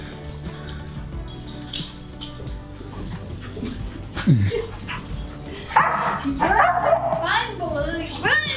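Two dogs yip, whimper and bark in excited bursts indoors in an apartment, with whining cries rising toward the end while people talk throughout.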